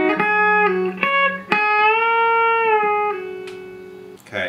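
A short electric guitar solo phrase from a country song: several picked notes, a held bend and a pull-off, played close and clear with no talking.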